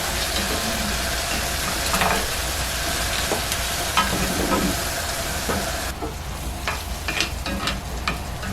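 Chicken tikka masala being mixed in a hot pan alongside fried tofu, a steady close sizzle with scraping stirs and occasional clinks of the utensil, no talking.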